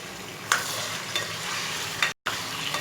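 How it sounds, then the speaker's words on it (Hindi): Chicken pieces frying in hot oil inside a karahi for dhaba-style chicken karahi, a steady close sizzle with a few louder stirring scrapes and one brief dropout. "और 5 मिनट तक इसे अच्छी तरह से फ्राई कर लूँगी।"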